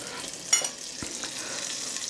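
Thin Dutch pancake batter sizzling in butter in a frying pan, a soft steady hiss close by with a couple of brief clinks and stirring sounds.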